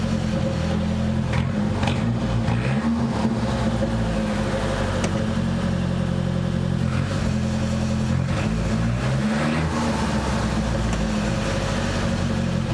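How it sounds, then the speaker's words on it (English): A Nissan 200SX turbo engine runs with a steady drone while the turbo spools down, its whir rising and falling in slow sweeps throughout. "You hear how, like, the turbo is spooling down?"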